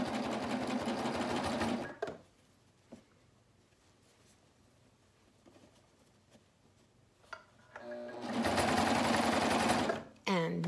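A cover stitch sewing machine stitches a knit neckband in two loud bursts, one at the start and one near the end, with a quiet stretch between them and faint handling clicks.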